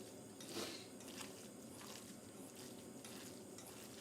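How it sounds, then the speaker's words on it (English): Dan Dan noodle ingredients being stirred and tossed together in a bowl or pan, a steady scraping, clinking churn running continuously at low volume with no talking. "give it a good even mix"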